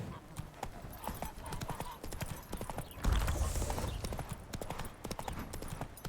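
Horse hooves clip-clop at a gallop in The Witcher 3 video game, a rapid, close rhythmic pounding with a brief whinny-like sound partway through.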